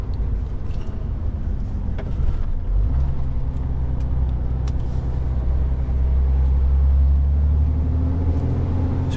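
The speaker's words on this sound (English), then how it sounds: "you can see it's quite busy with quarry traffic" Quarry trucks and other vehicles pass along a busy road under construction, a steady heavy rumbling engine and tyre roar that swells as a large vehicle draws near, continuous and fairly loud with no voices.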